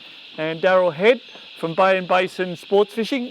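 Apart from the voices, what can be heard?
cicadas chirping in the background by the Shoalhaven River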